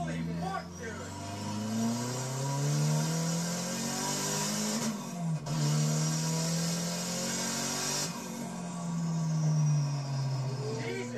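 A car revved hard during a burnout: the engine climbs and holds at a loud, raw, high-pitched scream, dips briefly, then surges again, close and dominant, with excited voices shouting over it.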